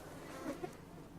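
A bee in the Enderal game gives a faint, steady buzz under a low background hum, with no voices over it.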